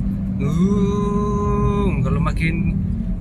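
A worn front wheel bearing hums steadily low with a rising whine inside a moving Perodua Alza over road rumble, growing louder with speed, the tone shifting slightly near the end.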